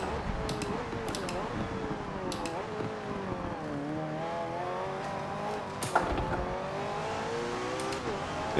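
McLaren Senna race car in Forza Motorsport 7, its engine wailing and shifting up and down through the gears at speed, with brief tire squeals and clicks over a continuous roar.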